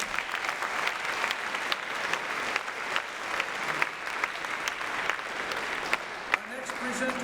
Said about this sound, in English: Let's give them one more round of applause, shall we?